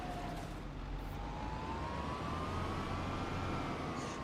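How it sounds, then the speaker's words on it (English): A Case IH tractor's auto guidance system in Farming Simulator 25 gives a faint, steady tone that rises slowly in pitch over a low engine hum and background rumble, with no talking. "They got the audio sound wrong for the Case IH auto guidance."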